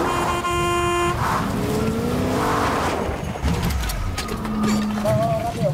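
In Fortnite, a car's horn sounds loudly, first as a held tone and later as short toots. An engine drones beneath it throughout, with some rumble and rattling, up close.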